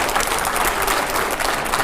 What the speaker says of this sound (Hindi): जोरदार तालियां अगले सवाल से पहले।